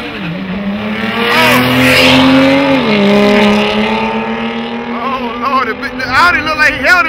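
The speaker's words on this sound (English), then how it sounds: "So let's see what the Beamer and the Audi gonna do." A BMW and an Audi street racing past, loud engines roaring with rising, shifting pitch close by, under excited commentary and crowd voices.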